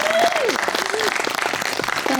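An audience applauds Dr. Janeen Detrick, a steady crowd of clapping that runs continuously at moderate loudness, with a few voices calling out and cheering through it.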